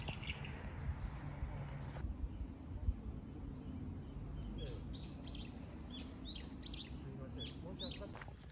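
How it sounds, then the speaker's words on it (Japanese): Birds sing outdoors on a summer day, with several short, high chirps and tweets scattered through the second half, faint and somewhat distant above a low, steady background hum. "これはもう鳥も鳴いてるし"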